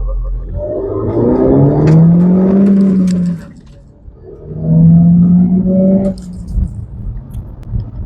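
Mini Cooper S fitted with a K&N panel air filter accelerating along a road, engine and intake note rising in pitch through the gears, easing off, then pulling hard again, loud and close from inside the car.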